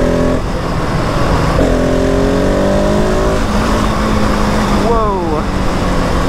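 Husqvarna 701 SM motorcycle engine, 2020 model with a fuel dongle, revving during a standing wheelie: loud steady single-cylinder drone with rising pitch sweeps as the throttle opens, heard against strong wind noise.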